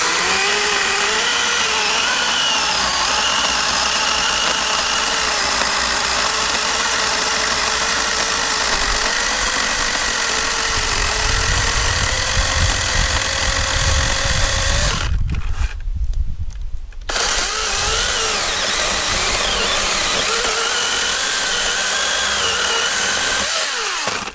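An 80V Kobalt battery chainsaw cuts through a maple log about one foot in diameter, giving a loud, continuous high whine that bogs into a lower rasp as the chain bites, then a brief pause before cutting resumes.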